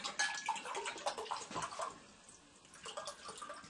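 Tonic water poured into a glass, a gentle trickling, bubbling liquid sound for a few seconds that eases off briefly midway, then resumes more softly.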